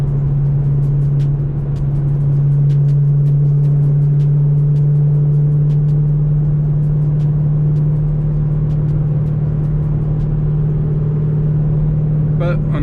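A 5th-generation Chevrolet Camaro SS V8 with an exhaust leak runs at a steady, loud low drone heard up close, holding an even tone for nearly thirteen seconds without clear revs.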